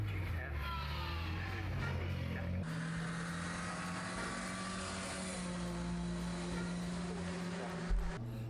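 A 1330cc-engined MG Midget racing at a hillclimb, its engine droning steadily and loudly close by, rising sharply in pitch partway through as it accelerates past, with a commentator's voice running over it.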